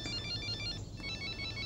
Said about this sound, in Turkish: Arayan Reyhan. Reyhan mı